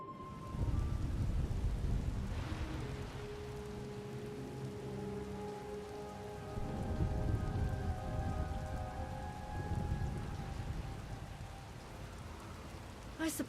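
A storm in the video game SWTOR, with steady rain pattering on surfaces and low rolling thunder swelling and fading, under sustained tonal music.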